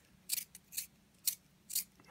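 A brass DUX pencil sharpener works a coloring pencil in four short, crisp scraping bursts at an even rhythm, close up and alone in a quiet room.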